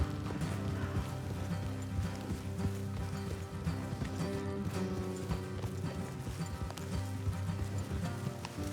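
Horse hooves clip-clop in a video game, a steady, continuous run of hoofbeats over a dense, busy background.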